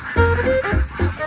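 A large flock of ducks at a farm near Phong Nha in central Vietnam, giving three loud, close, nasal quacks in quick succession over a faint background of other birds.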